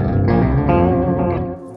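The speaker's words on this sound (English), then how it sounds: "Let's just do the pitch shifter." Distorted metal guitar run through the pitch shifter on a Sonicake Matribox multi-effects unit, a loud, sustained harmonized tone with layered shifted pitches and reverb tail, played alone for under two seconds.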